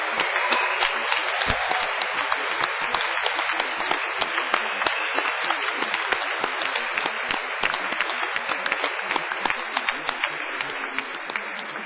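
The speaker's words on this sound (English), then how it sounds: "round of applause, wave and a cheer" A large audience at a Cardiff University business school graduation ceremony claps enthusiastically in sustained, dense applause with crisp individual claps, holding at a steady level for several seconds.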